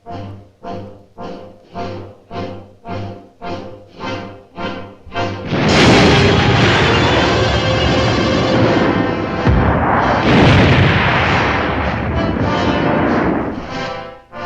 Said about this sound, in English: All of us wait for the simulated atomic explosion, which will signal the beginning of the day's advance.